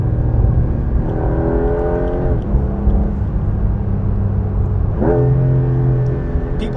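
A 2025 Porsche 911 GTS T-Hybrid (992.2) in Sport Plus mode climbs through its revs, with its 8-speed PDK shifting on the paddles. Two rising engine pulls each end in a sharp, quick drop, loud and close from inside the car.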